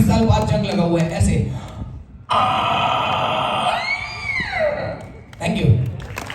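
A comedian performs a vocal imitation of a rusty door creaking open after twenty years, a strained, drawn-out squeal with rising and falling pitch, preceded and followed by brief talk.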